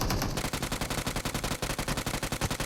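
Rapid machine gun fire in the PUBG Mobile battle royale game, a loud continuous burst of evenly spaced shots firing about eight rounds per second for nearly three seconds.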